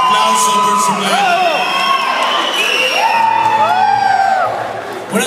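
Rock concert crowd cheering, whooping and shouting for the band taking the stage, loud and continuous close-up with high yells rising above the roar.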